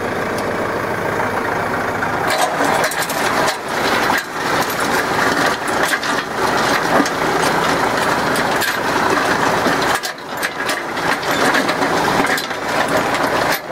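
A tractor in low gear drags a box blade across a gravel driveway, its engine droning steadily and loud while gravel crunches and scrapes continuously beneath it, with brief dips in the rumble.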